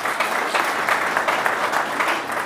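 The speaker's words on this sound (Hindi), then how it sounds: "तो सबसे पहले एक बार जोरदार तालियां के लिए बजा दीजिए।" A crowd at an outdoor gathering of several organisations and a toll committee claps loudly and steadily, a dense wash of applause sustained throughout.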